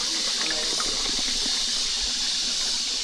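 Water pours steadily on a mountain trail during a climb to the Tres Marias rock formation, a constant hissing splash that runs unbroken and fairly close, with no voices over it.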